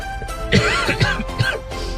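Three harsh, throaty coughs in quick succession after a run while recovering from illness, close to the microphone, with a faint steady background hum.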